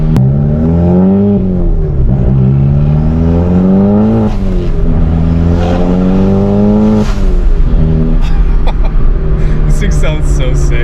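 A 350HP VW MK7 with a big turbo accelerates hard, its engine droning and climbing in pitch through the gears with brief dips at shifts, loud and close from inside the cabin while a voice talks over it.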